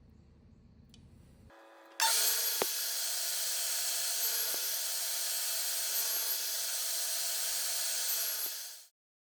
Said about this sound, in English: I used my sled at the table saw to slice them into little discs